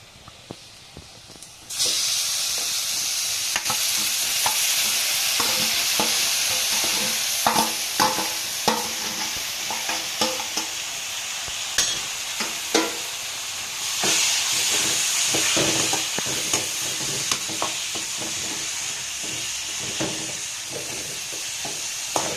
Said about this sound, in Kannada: ಇವಾಗ ನಾವು ತುರಿದಿರುವಂತಹ ಬೀಟ್ರೋಟ್ ಅನ್ನು ಹಾಕೋಣ.